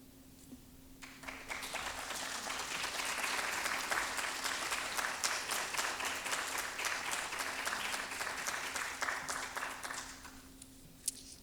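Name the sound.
audience applause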